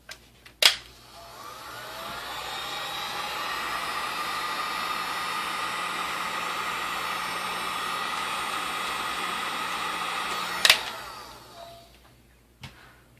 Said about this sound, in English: You can use a hair dryer on this, or if you have a heat gun, you can use that.